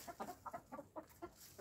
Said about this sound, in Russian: Оставил я тут еще вон парочку у меня вообще стареньких курочек.